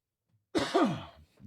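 A single close, rough cough with a throaty edge, followed by a brief breath.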